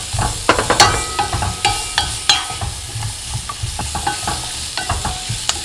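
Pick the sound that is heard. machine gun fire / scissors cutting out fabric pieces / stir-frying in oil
stir-frying in oil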